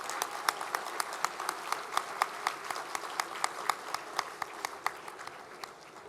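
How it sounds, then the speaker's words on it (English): Thinning audience applause for performers at a luncheon, with distinct individual claps landing in a fairly steady rhythm over a soft background of scattered clapping, moderately quiet. "Let's give them another round of applause."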